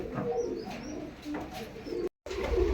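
Dhooma Rekhtar pigeons, including a male, coo close by in soft repeated low burbles, with a few faint higher chirps above and a brief dropout near the end.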